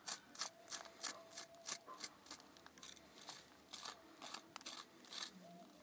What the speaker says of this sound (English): So I'm going to start loosening this, just using a rough method, cutting off some of these roots.